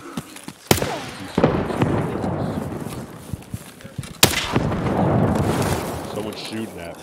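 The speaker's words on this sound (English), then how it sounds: "Someone's shooting at me." Gunfire in the shooter game Escape from Tarkov: two sharp, loud shots ring out several seconds apart over a steady ambient bed, with talk running alongside.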